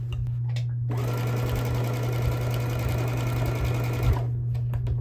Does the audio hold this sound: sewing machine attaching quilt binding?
yes